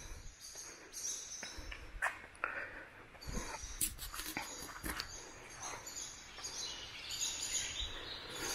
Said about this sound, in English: There's a lot more birds in here than there were last time.